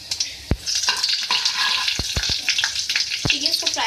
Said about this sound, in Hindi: ठीक है, इसको फ्राई करेंगे।